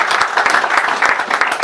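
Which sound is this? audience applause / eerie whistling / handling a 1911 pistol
audience applause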